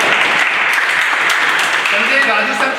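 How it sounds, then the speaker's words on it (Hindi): Students in a coaching classroom clapping, a dense, steady burst of applause lasting a few seconds, close and loud. "18 तारीख को मुकेश के लिए ताली बढ़िया।"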